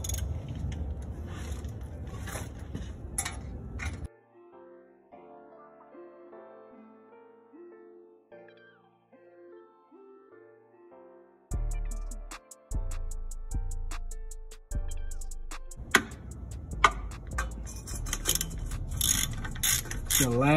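Ratchet loosening a bolt on a Subaru catalytic converter, with bursts of rapid clicking from the pawl at close range, separated by a quieter stretch of lighter metallic ticks and taps.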